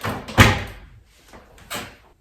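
Closet door in a 120-year-old empty Victorian house swung open, one loud wooden knock or thud followed by two softer knocks, close and echoing in a bare room.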